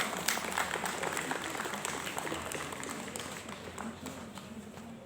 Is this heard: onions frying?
no